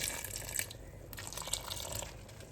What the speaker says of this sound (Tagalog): Pero dadagdagan namin ng kaunting tubig para maluto yung glutinous rice.